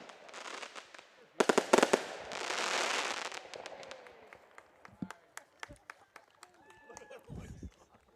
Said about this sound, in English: Fireworks seemingly have ended, but a lovely display nevertheless.